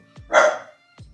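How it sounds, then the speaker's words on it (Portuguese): A pet dog barks once from outside, a single loud, sharp bark standing alone between brief quiet gaps, apparently set off by a cat on the street. "Branca, minha cachorra latina ali fora. Deve ter aparecido algum gato na rua."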